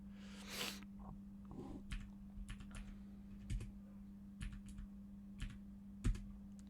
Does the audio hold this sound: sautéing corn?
no